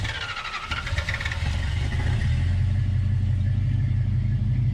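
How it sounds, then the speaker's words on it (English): A 1976 Dodge D100 truck's 440 engine, unused for a decade, cranks and catches on a cold start, settling into a loud, steady low rumble that fills the close foreground. "But Michael, let's give the folks a cold start now that we have touched the truck"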